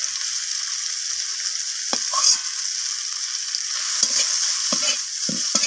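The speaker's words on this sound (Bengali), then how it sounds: "মশলাটাকে দিয়ে আমি টমেটোর সাথে একটু মিশিয়ে নিয়ে নাড়াচাড়া করে নিলাম" Spices and tomato get stirred in a hot frying pan, the spoon scraping and knocking against the pan over a steady loud sizzle, with sharper scrapes near the end.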